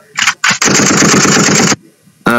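A voice mimics bursts of machine-gun fire: a couple of short blasts, then a sustained rapid rattling, ending with a brief vocal sound.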